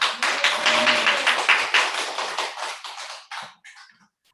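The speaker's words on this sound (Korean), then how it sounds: "큰 박수로 환영합니다" A church congregation applauds to welcome a guest preacher to a Sunday service, a dense burst of clapping that thins and fades out over a few seconds.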